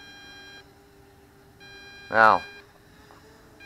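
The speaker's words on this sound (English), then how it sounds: "There's my transmitter beeping." A radio-control transmitter gives one short, loud, tonal beep near the mic, heard outdoors against a steady background hum while a person briefly speaks.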